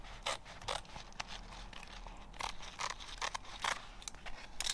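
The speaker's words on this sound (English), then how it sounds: "with that line, you can cut it with your scissors" Scissors snip through mudflap material for a go-kart or mini bike along a traced line, a series of crisp, close cuts with short pauses between them and no talking.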